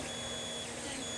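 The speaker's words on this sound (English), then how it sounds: "This printer prints so nicely." A 3D printer slowly prints a tall figurine, giving a steady, even mechanical hum with a faint high whine that holds unchanged throughout.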